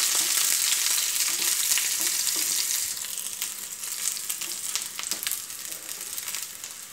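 Thinly sliced small shallots fry in hot oil in a pan for a Kerala brinjal curry, a loud dense crackling sizzle that settles a little partway through, with scattered pops and no talking.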